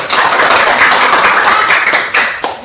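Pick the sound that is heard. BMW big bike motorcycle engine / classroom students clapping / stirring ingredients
classroom students clapping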